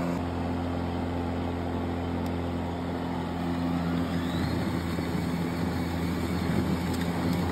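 Hart 40V 20-inch self-propelled electric lawn mower running steadily near a lawn with maple trees, a continuous motor hum with low tonal bands and broadband whir that grows rougher and louder over the second half.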